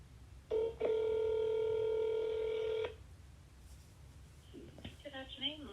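A telephone keypad beeps through one short tone and then a long steady dialing tone of about two seconds, near and fairly loud, followed by a voice talking.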